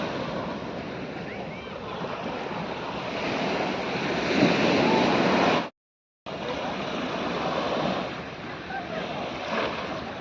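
Ocean waves wash onto Kakinada beach on a rainy day, a steady rushing surf mixed with wind buffeting the microphone, broken by a brief silent gap partway through.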